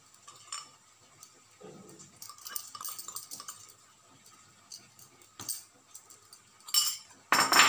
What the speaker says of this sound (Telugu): వేసి శుభ్రంగా కలిపేసుకోవాలి